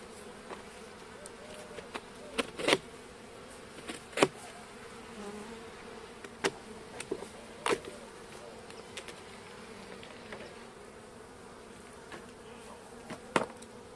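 Caucasian honey bees buzz steadily at the hive after winter, a dense continuous drone with individual bees zipping close past at irregular moments.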